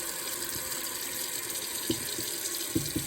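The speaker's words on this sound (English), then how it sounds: "So basically, I like to get a sink full of water." Tap water running into a kitchen sink to fill it, a soft continuous flow with a few brief knocks and splashes near the end.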